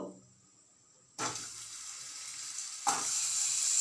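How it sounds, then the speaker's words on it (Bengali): Chopped potatoes drop into hot fish oil and burst into a loud, bright sizzle, which swells again with a second batch, following a quiet stretch with no talk. "এবারে আমি যে আলুর কুচোগুলো নিয়েছিলাম সেগুলো এই মাছের তেলেতেই ভেজে নেব"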